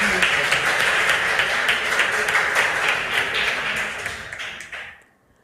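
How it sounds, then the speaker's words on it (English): At a regional school quiz contest, an audience claps for a ninth-grade contestant, a full burst of steady applause that fades out toward the end and stops. "please clap for Roland"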